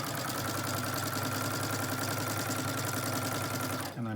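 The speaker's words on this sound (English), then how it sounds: "So I'm just going to sew down." Sewing machine with a 1/4 inch foot stitching a fabric face mask, a steady, close mechanical whir running evenly for several seconds before stopping abruptly.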